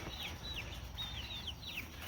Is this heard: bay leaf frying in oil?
no